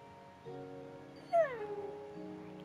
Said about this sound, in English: are you okay, doggy?